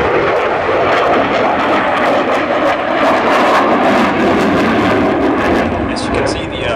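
At the 2012 Aalborg airshow in Denmark, a Eurofighter jet rolls with full afterburner, producing a loud, continuous, rushing roar throughout, with a commentator's voice beneath it.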